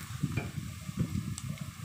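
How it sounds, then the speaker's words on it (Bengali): Onions sizzling and being stirred in a frying pan for a broiler chicken shahi korma, with close, crackly frying and soft scraping strokes coming in uneven pulses. "পেঁয়াজটা আমার একটু ভাজা ভাজা হয়েছে"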